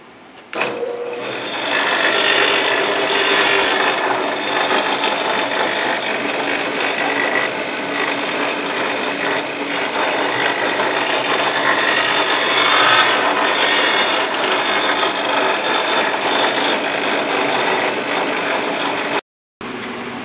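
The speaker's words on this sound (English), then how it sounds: "I can simply lower the drill press down as everything is spinning and true it up" Steady whirring and grinding of a drill press running continuously while grinding a spinning hydro generator part true, a dense broadband rasp that holds nearly unchanged, cutting out briefly near the end.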